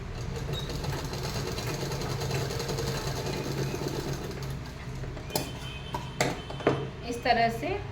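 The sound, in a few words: sewing machine stitching a blouse collar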